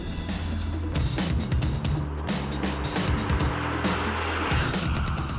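A sports track car with a Tremec six-speed gearbox and side exhaust rumbles hard under acceleration, a loud, deep, steady engine roar with rising and shifting tones, close by and continuous.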